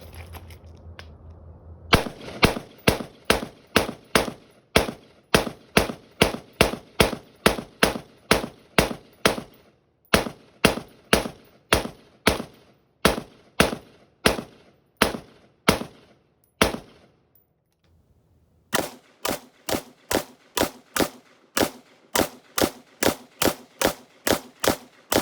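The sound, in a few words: AK rifle firing a full magazine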